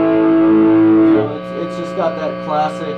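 Crunchy Tube Screamer-style distortion on an electric guitar with single coil pickups, fed through a TruTron filter into an amp: a sustained, buzzy, noisy chord rings out loud and then fades, while a person talks over the decaying tail.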